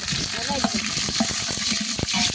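Onions frying in a pan make a close, steady sizzle with stirring clatter, while a voice talks over it throughout.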